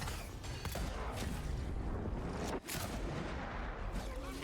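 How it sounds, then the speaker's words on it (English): Pistol gunfire in the video game Avowed, sharp shots mixed among booming bursts within a dense, faint game soundscape. "Back to the pistol."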